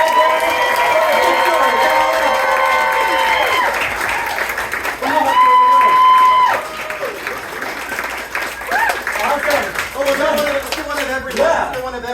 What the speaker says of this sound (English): Give Dr. Lee a round of applause.